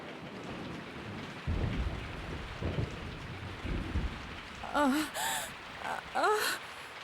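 Steady rain falls in the Resident Evil 3 PlayStation game, a continuous hiss running throughout, with a few low thumps and a brief vocal gasp or sound effect layered near the end.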